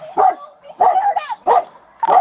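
A dog barks in four sharp, loud bursts spaced at roughly even intervals, close by, with brief silences between them.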